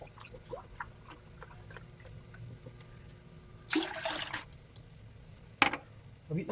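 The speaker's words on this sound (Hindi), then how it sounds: "और 1 ही कप दूध का इस्तेमाल करेंगे इसके साथ।" Milk poured into a pot on the stove while making tea, a short splashing pour in the middle, near and moderately loud over faint kitchen background noise.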